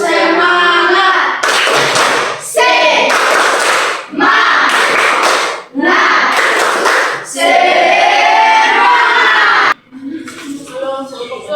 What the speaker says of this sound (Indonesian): Semua bangun berdiri, kita ice breaking dengan melakukan tepuk semangat.